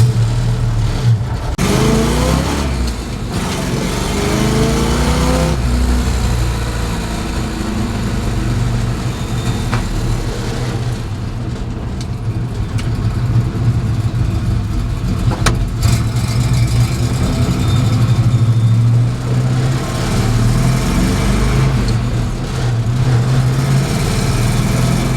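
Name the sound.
1970 Chevrolet C10 truck engine cruising in third gear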